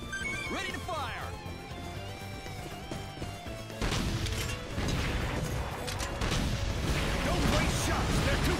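Gunfire in the video game Earth Defense Force 2025 on PS3: loud bursts, crashes and rapid shots thicken into a continuous barrage over the second half, with game voices and mechanical whooshes mixed in.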